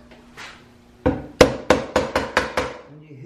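A hammer taps frets into a Rickenbacker bass neck during a refret: about seven sharp, close strikes in quick, even succession, with no talking.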